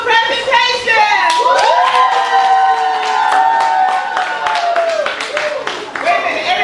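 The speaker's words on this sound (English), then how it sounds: "Wait a minute, everybody did clap" An audience of schoolchildren at a school entrepreneurial presentation claps and cheers loudly, with sharp scattered hand claps mixed into sustained shouting and whooping voices that rise and fall across several seconds.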